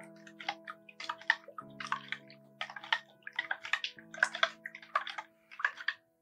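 Milk with a dissolved rennet tablet is stirred or whisked for homemade mozzarella, giving quiet, irregular splashing and sloshing strokes up close, with a faint steady hum underneath and no voices.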